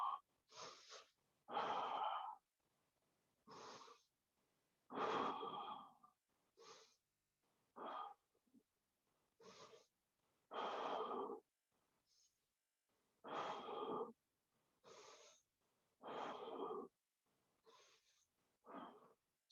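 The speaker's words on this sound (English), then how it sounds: "Breathe in, breathe out." Slow, deep breathing during a yoga session: about a dozen airy inhales and exhales at a calm, unhurried pace, close and fairly soft, with short pauses between breaths.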